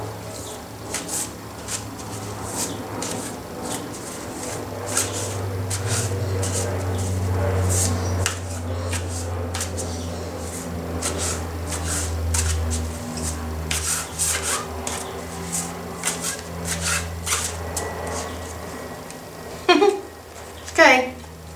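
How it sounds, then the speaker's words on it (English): Animal guide cards being shuffled by hand, a steady papery rubbing and riffling that runs through most of the stretch, with a couple of sharper slaps near the end and faint background noise. "So right now I'm going to shuffle these cards"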